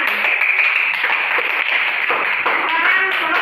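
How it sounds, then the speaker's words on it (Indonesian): A school class claps hands in a classroom, with a steady, crowded patter of claps continuing throughout at fairly close range. "Berikan tepuk tangan."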